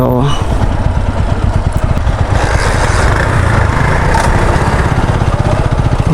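A motorcycle engine runs loud and close on a narrow bridge, a steady, throbbing drone with a fast pulsing rhythm that holds for the whole stretch.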